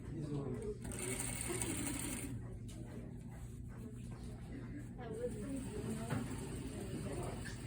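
A sewing machine stitches a jacket sleeve cap, its fast whirring needle running in quiet steady bursts with short pauses, close but soft.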